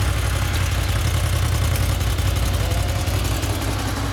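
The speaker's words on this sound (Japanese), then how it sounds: "エンジン音聞かせて、どんな音するんかな。" A 2015–2016 Honda VFR800F motorcycle engine running steadily nearby, a dense even low rumble with no change in pace.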